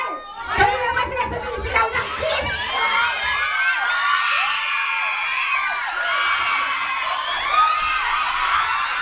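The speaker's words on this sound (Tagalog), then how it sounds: "Kami naman sila sumisigaw ng kiss!" A crowd at a Christmas party shouts and cheers loudly, excited children's and adults' voices overlapping in high-pitched whoops and chatter that swell and persist throughout, close and dense.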